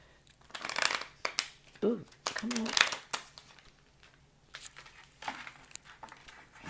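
A deck of tarot cards shuffled by hand in a few quick riffling bursts, close and fairly crisp, with a person's voice briefly exclaiming between shuffles.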